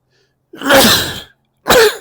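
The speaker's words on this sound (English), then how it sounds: "I gotta sneeze." A single person sneezes loudly and close up, first one long burst and then a shorter second one after a brief pause. The room is quiet between the two.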